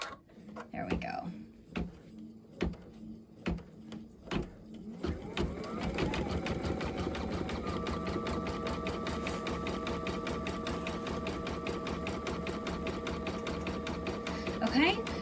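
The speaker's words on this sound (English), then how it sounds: "And now we're going to go ahead and stitch out the lettering." An embroidery machine stitches lettering onto a pillowcase, first a few separate needle thumps, then a continuous fast mechanical whirring and rhythmic clatter that runs steadily, close and fairly loud.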